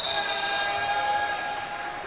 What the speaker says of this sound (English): As we have a whistle on the play, and Brazil will get the ball back